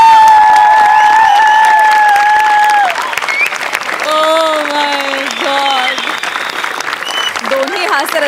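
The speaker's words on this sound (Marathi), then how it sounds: "दोन्ही हास्यरसिकांनी उभे राहून टाळ्या वाजवल्यात." A comedy show audience rises and claps, a steady wash of applause running throughout with a bright tonal line layered over it early on and music-like tones joining later.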